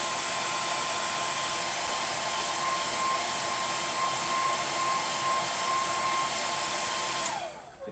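A hair dryer blasts a wet watercolour painting of a dog, a steady, close, even roar with a faint whistling tone that runs for about seven seconds before cutting off at the end.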